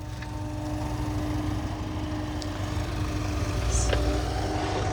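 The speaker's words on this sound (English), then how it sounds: "The boss man trying to work the rototilt." A steady, droning diesel engine of an excavator working a rototilt attachment hums continuously nearby during yard building, with a faint high whine and occasional small clanks over the constant rumble.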